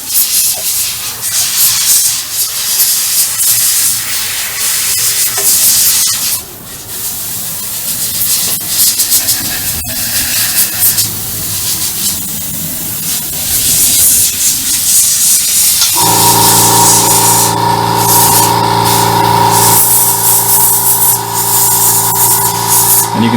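Loud, close spray painting on a StuG III Ausf G model tank produces a steady airbrush hiss with brief breaks, then a strong droning compressor-like hum joins in for the last few seconds.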